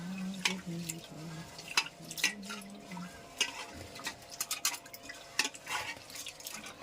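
Old rice is washed in water in a kitchen, with intermittent splashes, drips and clinks of a vessel as the grains are stirred and rinsed, close and fairly quiet.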